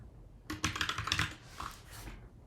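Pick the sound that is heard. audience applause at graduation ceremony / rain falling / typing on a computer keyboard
typing on a computer keyboard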